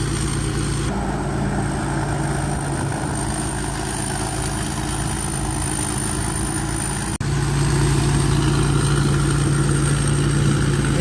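A Hino 270 turbo truck engine idles nearby with a steady low rumble and faint high whine, growing slightly louder and deeper after a brief click midway.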